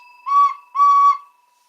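A whistle blows two short, loud blasts in succession, a pure shrill tone close by with silence between and after.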